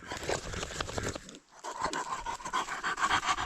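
A dog panting and whimpering outdoors on a forest path during mushroom picking, quick breathy pants close by with a short pause midway, no talking.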